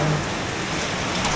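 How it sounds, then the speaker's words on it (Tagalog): Steady rain falls nearby, a dense, even patter with no break. "Ulan na naman."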